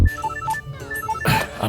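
A telephone ringtone plays as a repeating pattern of electronic melodic beeps, followed by a louder burst of noise near the end.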